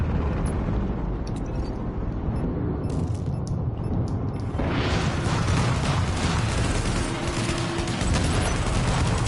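A chain reaction of explosions in a video game, a continuous loud rumbling roar that swells into heavier blasts and crackling bursts midway, sustained to the end.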